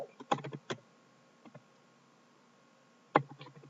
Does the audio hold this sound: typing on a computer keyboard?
yes